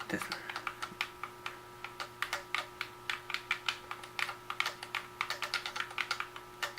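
Buttons on a SteelSeries Stratus XL game controller are pressed in quick, irregular clicks, close and fairly quiet against a faint steady hum.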